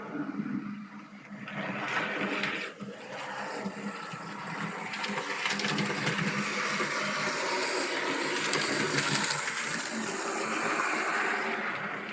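A small model railway locomotive runs along its track during a running-in session, giving a soft continuous whirring and rattling rumble at low volume, steady throughout with no talk.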